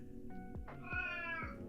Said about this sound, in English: Can you guys hear the cat, by the way?